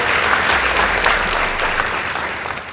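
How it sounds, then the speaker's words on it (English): Studio audience applauding a boys' high school team at a televised school debate competition, steady dense clapping at close range throughout, fading slightly at the end. "Please give them a round of applause."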